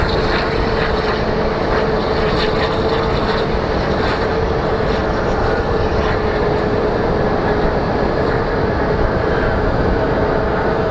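Small CRJ regional jets are pushed back by ground crew at Phoenix Sky Harbor Airport, heard as a constant, loud, close jet-engine roar with a thin steady whine over it and no talk.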